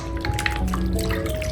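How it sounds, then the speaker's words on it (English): A vintage 1960s Barbie doll is dunked into water, giving soft dripping and sloshing sounds close to the microphone over a low background hum. "So now we're going to dunk her into the water."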